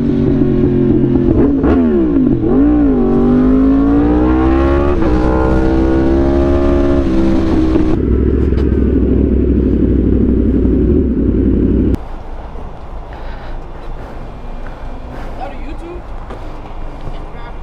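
Yamaha R1 sport motorcycle ridden on Miami streets toward the beach, engine loud and close as it revs up and down through gears, rising and falling pitch with a steady drone, then a lower rumble.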